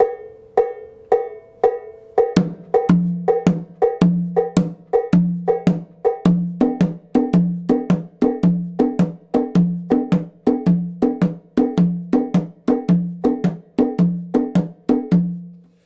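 An Abakuá hand drum plays a steady, repeating pattern, dry muffled slapped strokes alternating with deeper, ringing open tones, loud and close with no voices.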